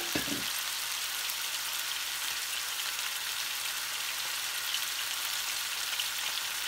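Chicken pieces for brown stew sizzle steadily in a hot pan, a dense continuous crackle of frying oil at even loudness with no pauses.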